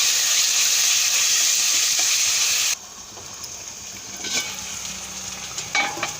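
Masala paste of ginger, garlic and coriander frying in hot oil for a country-chicken egg curry, a loud steady sizzle that drops abruptly to quieter bubbling and occasional stirring scrapes.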